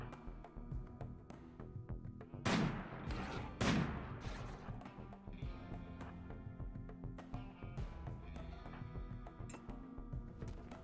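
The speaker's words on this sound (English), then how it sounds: "we got snipers killing elephant-sized mechs out here" Two sharp sniper rifle shots a little over a second apart ring out in RimWorld as snipers fire on elephant-sized mechs, standing clearly above a busy low game background.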